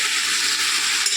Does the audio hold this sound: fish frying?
yes